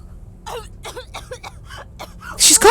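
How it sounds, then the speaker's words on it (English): A girl in the video game Corpse Party: Book of Shadows coughs and clears her throat in a series of short, raspy bursts, followed by a louder, sharper noise at the end. "She's coughing! She's coughing!"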